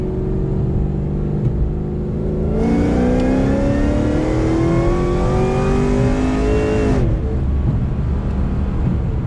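A Chevrolet SS at wide open throttle, its engine climbing steadily in pitch through a long, loud pull from a low rumble before easing off, heard from inside the car with no talk.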